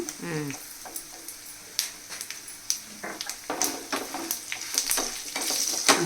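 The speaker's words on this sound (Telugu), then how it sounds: "వెల్లుల్లి కొంచెమే వేస్తాను ఎక్కువ వేయలేదు ఇవన్నీ వేగిపోతుంది" Garlic and asafoetida sputter in hot oil for a rasam tempering, giving a crackling sizzle with frequent sharp pops and spoon taps, fairly close; a voice is faintly present.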